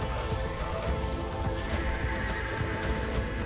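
A horse whinnies in a video game amid steady hoof clatter and a dense, loud wash of battle noise, with no pauses.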